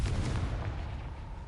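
Confringo fire spell blast in Hogwarts Legacy, a single dull low boom at the start with a rumbling tail that fades over about a second and a half.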